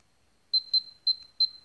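Yi Discovery 4K action camera firing a burst-mode shutter: four short, sharp electronic beeps in a quick, slightly uneven rhythm, close and clear against silence.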